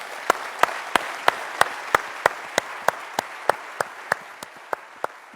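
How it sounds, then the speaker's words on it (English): A crowd applauds at a golf award ceremony, the 2016 Rolex Annika Major Award, with about eighteen sharp, evenly spaced claps standing out above a steady, dense wash of clapping that runs the whole time. "Deserve a big round of applause."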